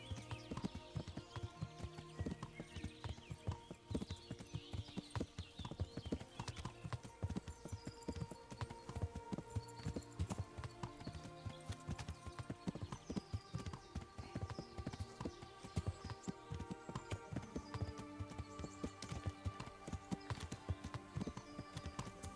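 Horse hooves clip-clop in a steady, continuous gallop-like rhythm while riding in the video game Kingdom Come: Deliverance, with occasional whinnies and clattering mixed in throughout.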